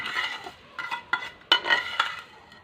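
A spoon stirs sheer khurma, milk thickening with vermicelli, making a few close metallic scrapes and clinks against the pot in short separate strokes.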